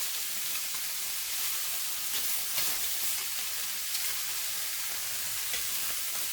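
Prawns frying in a hot pan give off a steady close hiss and sizzle with faint crackles and occasional stirring scrapes, no voices.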